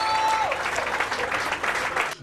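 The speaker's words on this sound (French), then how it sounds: "faites des acclamations" An audience for a rap news show on a television channel breaks into applause and cheering, a dense clapping crowd with a brief tone fading out at the start, the burst lasting about two seconds.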